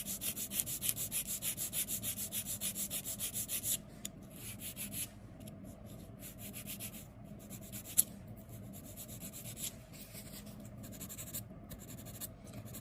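A hand file shapes an oval press-on nail tip with quick, even rasping strokes, close and steady for the first few seconds, then slower and more scattered scraping.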